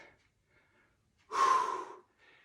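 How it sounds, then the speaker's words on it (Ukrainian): A single deep breath drawn in during a gentle exercise routine, close and clear, rising briefly out of near silence. "Зробили вдих"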